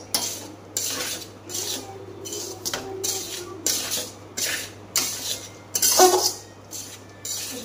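A spoon scrapes and stirs a sticky, ghee-rich ladoo mixture in a metal pan, producing repeated rhythmic clinks and scrapes, close and moderately loud.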